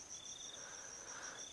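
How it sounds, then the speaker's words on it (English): Crickets chirp in an Altspace VR world near a wharf, a faint, continuous high trilling with a second softer chirp layered beneath, with no voices. "can you hear the crickets?"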